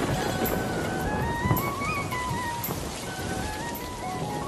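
Cartoon rain effect of steady dense patter over a village river scene, continuous and fairly loud, with a faint melodic background tune running beneath and no talking.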